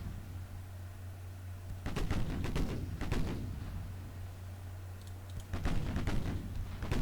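Naval guns on a 1940 British warship firing in the naval strategy game Ultimate Admiral Dreadnoughts, heard as two clusters of sharp, rapid reports over a steady low engine hum.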